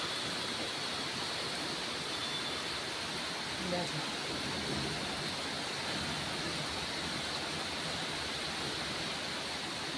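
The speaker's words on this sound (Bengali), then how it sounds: "প্রচুর জোর বৃষ্টি হচ্ছে, প্রচুর জোর।" Heavy rain pours down steadily during a gusty storm, an even, dense roar of water that fills the whole stretch, with a brief faint voice near the middle.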